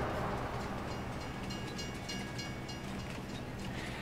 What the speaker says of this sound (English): But the train is actually a good way of looking around a map